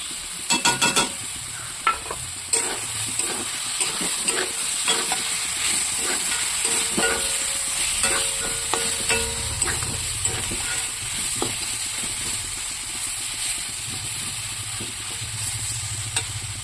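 Mango pieces fry in a pan with dry chillies and fennel seeds, a constant sizzle broken by repeated scraping knocks of a spoon stirring against the metal, close and with no talking.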